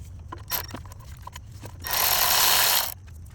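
A ratchet loosening the 10mm bolt at the bottom of the alternator on a 4-cylinder Honda Accord: soft clicks of the pawl, then a louder, sustained grinding rasp as the wrench turns, close up.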